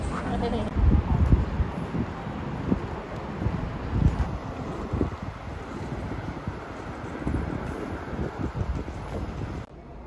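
Wind buffets the microphone in gusty, uneven bursts, a rough low rumble that continues for several seconds before cutting off abruptly.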